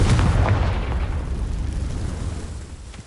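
A Confringo fire-blast spell in the video game Hogwarts Legacy bursts loudly at the start, then a dense rumbling explosion tail slowly fades over about three seconds, with no talking.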